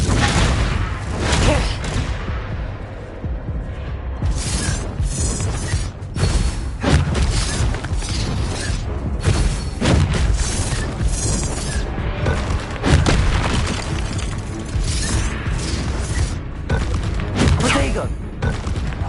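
A Confringo explosive spell is cast in the Hogwarts Legacy video game amid a dense combat mix of repeated booms, crackling blasts and clanking impacts, loud and continuous, with voices calling out spells over it.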